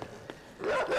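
A dog in the video game Inside barks in a short harsh burst near the end, loud and close after a quieter stretch of faint game ambience.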